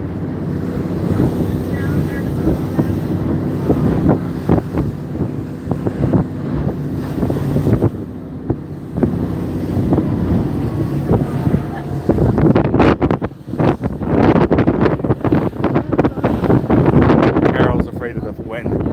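Wind buffets the microphone aboard a whale watching boat off Plymouth, a loud, continuous roar with gusty surges, most intense toward the end, with voices faintly beneath it.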